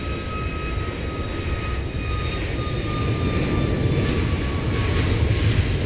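A LOT Polish Airlines airliner at Incheon Airport gives off a steady, loud jet engine roar, a broad rumble with a faint high whine held throughout.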